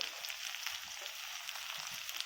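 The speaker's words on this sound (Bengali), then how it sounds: "তিনটে পেঁয়াজ কুচি ছিল সেটা আমি দিয়ে দিচ্ছি" Chopped onions sizzle in hot oil in a pan for a fish-head and elephant-foot-yam dal, a steady soft crackling fry heard close without talk.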